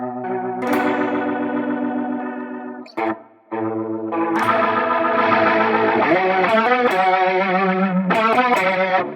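Electric guitar played through a Line 6 Helix multi-effects preset, with a loud, sustained processed tone, layered chorus shimmer and echo tails, a brief break near the middle before dense chords return.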